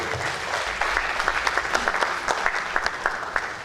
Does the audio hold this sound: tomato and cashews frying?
no